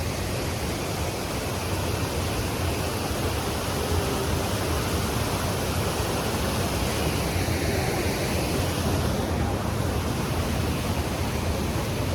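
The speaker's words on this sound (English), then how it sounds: "Bridge just there with the water going underneath it." River water rushing beneath a bridge in the Scottish countryside, a steady, dense broadband roar that carries on unchanged for the whole stretch, with no voices over it.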